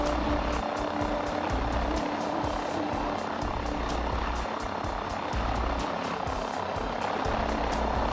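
Airplane engine in the FlightGear flight simulator game, a steady broadband propeller-engine drone that holds at an even, fairly loud level throughout with no talk over it.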